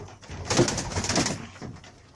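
Pigeons coo in a close, soft burst inside an aviary, in a low throaty rolling call over faint background noise, with no talking.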